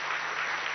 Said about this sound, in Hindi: ताली नहीं बजाते, क्या करो